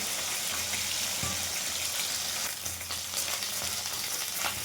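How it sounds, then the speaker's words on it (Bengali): Katla fish fries in hot oil in a pan, giving a steady, loud sizzle with crackling bursts and a low hum under it, with no talking. "এইভাবে সবগুলো মাছ আমি ভেজে নেব।"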